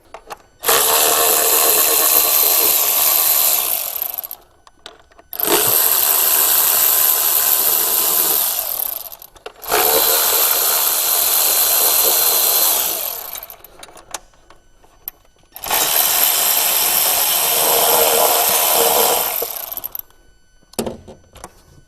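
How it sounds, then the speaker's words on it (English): A power tool whirs in four long, loud bursts with short pauses between them, removing the top timing belt cover from the engine of a Holden Colorado that will not start. "I'm going to go and pull the cover off"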